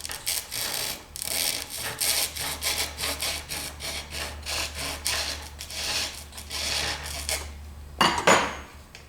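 Rasping strokes of sandpaper or a file against a wooden wingtip bow during installation, steady and close, repeating without pause for the whole stretch with one sharper scrape near the end.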